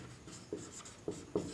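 Handwriting on paper during a class 10 maths lesson on real numbers, soft close scratching strokes with a few sharper taps, quiet and alone.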